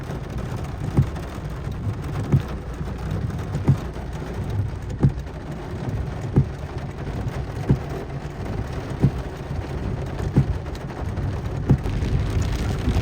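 Heavy rain pours steadily on the streets of Makkah along the Third Ring Road, a dense constant hiss with occasional low thunder rumbles and regular soft thuds recurring every second or so.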